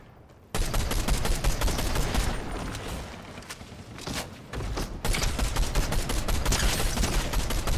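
Fortnite assault rifle (AR) firing in sustained rapid bursts, loud and close, with a brief gap near the start and a short dip midway, no talk over it.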